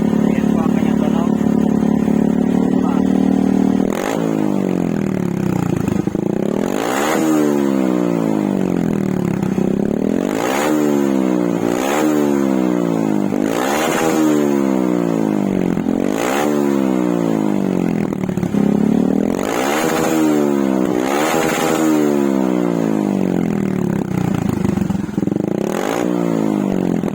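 A motorcycle fitted with a Taikom power pipe and silencer revs up again and again, close and loud, each throttle blip climbing in pitch and falling back to idle in a repeating rhythm.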